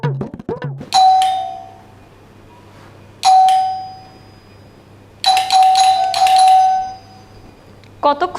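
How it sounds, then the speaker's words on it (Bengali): An electronic doorbell in a family home rings several times in long, loud chimes separated by pauses, with a muffled voice at the start. "কতক্ষণ ধরে কলিং বেল বাজতেছে"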